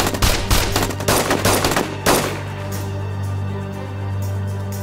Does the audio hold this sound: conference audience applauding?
no